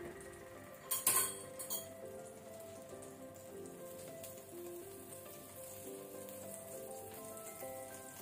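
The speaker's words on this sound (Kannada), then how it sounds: "ಇಲ್ಲಿಗ ಪ್ಯಾನ್ ಬಿಸಿಯಾಗಿದೆ, ಅದಕ್ಕೆ ಬೆಣ್ಣೆ ಹಾಕೊಳ್ಳುವ" Butter melts in a hot frying pan before bread rolls are fried. A steady, soft, crackling sizzle runs throughout, with a few metallic clinks near the start and no voices.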